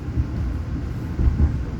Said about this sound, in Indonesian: beberapa kereta menuju Jakarta yang melintas langsung atau tidak berhenti di stasiun Jatinegara ini